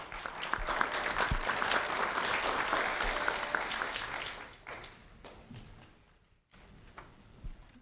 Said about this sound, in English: a round of applause for Sanaya Becerra, please